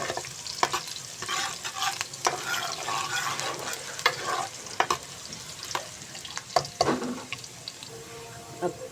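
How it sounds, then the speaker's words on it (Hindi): Onion, garlic and ginger frying in a pan for a daal and egg dish, with a soft sizzle under repeated scraping stirs of a spoon, close and fairly quiet. "ये देखिए 1 मिनट के लिए अच्छे तरीके से हम इसको फ्राई करेंगे।"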